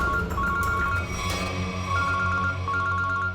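A telephone rings in a police drama scene, a repeating electronic tone pattern heard clearly over a low background music bed for a few seconds, with no talking.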